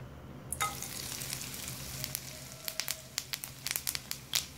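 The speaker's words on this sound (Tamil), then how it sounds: "இப்போ எண்ணெய் காஞ்சிச்சு நான் இதில் வடகம் சேர்த்துக்கிறேன்" Vadagam, sun-dried seasoning balls, dropped into hot oil for tempering a spinach kadayal, crackling and sizzling with a steady frying hiss and sharp pops growing denser toward the end, close and alone.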